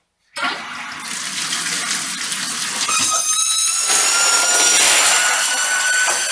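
A steady rush of water pours and sprays continuously, loud and close, with a rising hiss as the container fills.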